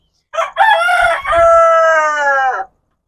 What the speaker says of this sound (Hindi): ये यहाँ पर भी मुर्गे